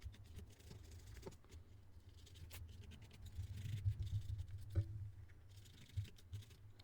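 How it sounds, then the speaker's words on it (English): A wire brush scrubs the mating surface of a car's brake drum or rotor with the tire off, giving a faint, steady scratching rasp with a few sharper scrapes and knocks. "grab your wire brush. Start cleaning up the mating surface of your brake drum or brake rotors"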